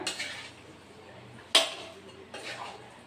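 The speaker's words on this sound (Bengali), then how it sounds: "এবার চামচ দিয়ে একটু মাখিয়ে নিই পুরোটা" A metal spoon mixes spices into live fish in a cooking pot, giving a few soft scraping clinks with a sharper knock midway, close and quiet.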